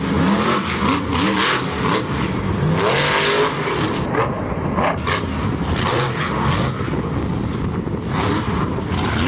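A monster truck engine revs hard at a Monster Jam event in Orlando in 2016, a loud, continuous roar that rises and falls in pitch with no pause and no voices.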